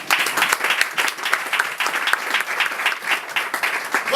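A church congregation at a Pentecost service applauds in a dense, continuous burst of clapping that stays loud and even from start to finish, with a few voices mixed in.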